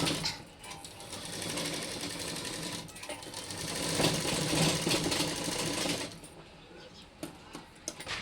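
A sewing machine stitches the rounded parts of a baby frock, running in a fast, continuous close whir that stops near the end, leaving only a few scattered taps.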